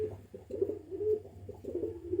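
A group of pigeons keeps up soft throaty cooing, the rolling calls rising and falling in repeated phrases over a low steady hum, near and moderate in level with no speech.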